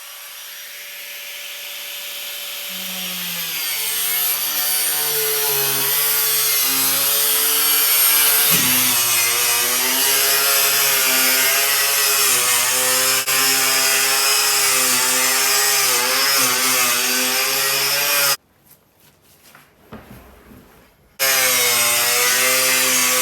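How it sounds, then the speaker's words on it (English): An angle grinder cutting through a plastic IBC tote gives a loud, close, continuous harsh whine that revs up and holds steady, cuts out abruptly for a few seconds, then resumes. "we want to pull the tote out and cut it with the angle grinder"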